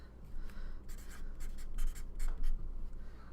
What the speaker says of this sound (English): I'll write it down for you